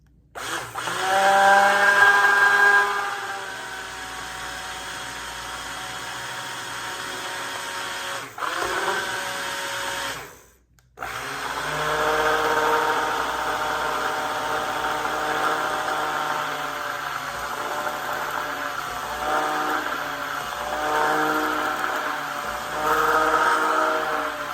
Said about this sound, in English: I'm using my immersion blender.